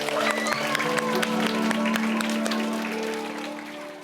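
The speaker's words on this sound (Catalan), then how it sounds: "Un aplaudiment per tots vosaltres" Applause from an audience at a Catalan Christmas song event, steady dense clapping that fills the clip and fades slightly toward the end, with some music or voices underneath.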